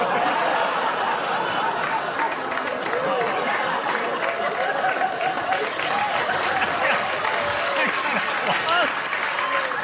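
Studio audience applause fills a late-night sketch comedy show, a steady dense wash of many hands clapping throughout, with scattered laughter and chatter mixed in.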